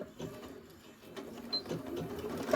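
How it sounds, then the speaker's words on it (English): A sewing machine runs close to the edge of a small fabric tea wallet, a soft, low mechanical whir building gradually and continuing to the end. "I'm going to sew really close to this edge"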